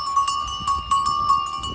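Small bells on goats jingle and clink continuously with an irregular rhythm as the goats move along nearby on a mountain pasture road, over a low outdoor rumble.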